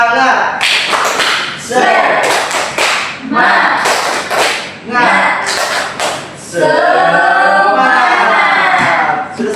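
In a classroom, students perform the rhythmic tepuk semangat spirit clap: crisp grouped hand-clap bursts repeated in a steady pattern, interleaved with loud unison shouting.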